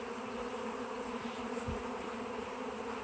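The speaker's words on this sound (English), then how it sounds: "That's a lot of bees." Many honey bees swarming around a tree in Minnesota hum in a thick, unbroken drone that stays level and near throughout, with a faint low thump midway.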